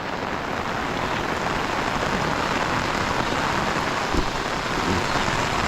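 Heavy rain pours down steadily, a dense continuous hiss of drops hitting surfaces, loud and close throughout with no voices.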